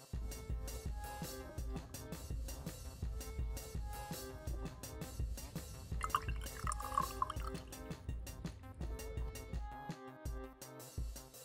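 Water drips and trickles into glassware as gold precipitate recovered from LEDs is washed, a quiet, close, irregular patter of drops with brief glassy ringing.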